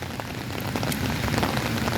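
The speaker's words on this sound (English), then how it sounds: "Walking in rain in Chicago." Steady rain falls on a Chicago city street, a dense, even patter of drops on pavement that holds constant from start to finish with no voices.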